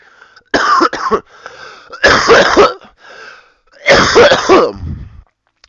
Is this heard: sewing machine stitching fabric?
no